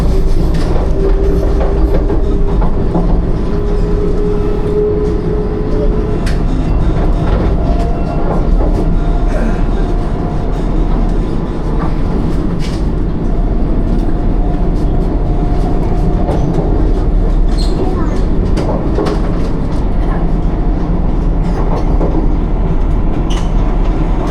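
Kerala Sampark Kranti Express running after departing Alappuzha, heard from inside: a steady, loud rumble with rhythmic clickety-clack of wheels over rail joints and occasional faint squeals, continuous for the whole stretch without talk.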